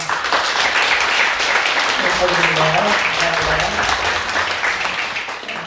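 Sustained applause from a church congregation during a Sunday service fills the room, with a voice speaking briefly over it partway through.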